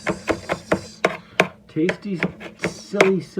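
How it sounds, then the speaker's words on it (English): Knife chopping fresh cilantro on a board, a quick run of crisp, close chops in an uneven rhythm, with a voice speaking briefly over the later strokes. "That is some fine chopped cilantro, herb style"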